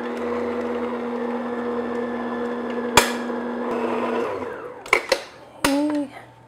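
An electric mixer slowly beating flour mixture into pumpkin pound cake batter gives a steady, close motor whine with a mechanical hum, running evenly for about four seconds before winding down and stopping, followed by a few clunks and a voice speaking.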